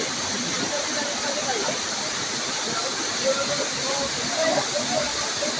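Kaluktuban Falls in Barangay Lundag, Merida, Leyte, Philippines, gives a steady, broadband rush of falling water that holds at an even, fairly loud level throughout, with no clear talk over it.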